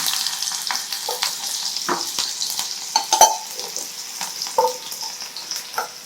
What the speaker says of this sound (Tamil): கடுகு பொரிஞ்சிருச்சா வெங்காயம் போடுவோம்.